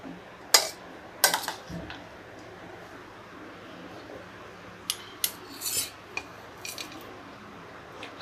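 A spoon scraping and tapping a bowl while crushed peanuts are added to a beetroot salad, a few sharp clinks and scrapes in bursts over a quiet background, with little or no talk.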